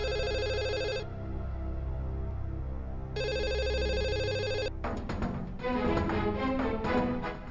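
A telephone rings in a dubbed Indian drama series, two long bursts of ringing separated by a short pause, then shifting to louder mixed sounds near the end, with no talk.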